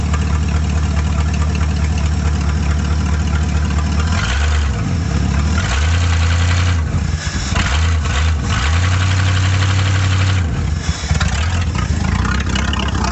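A car engine that has been hurt roars loudly and steadily close by, swelling through repeated revs as the driver tries to spin the tires, with no talking over it.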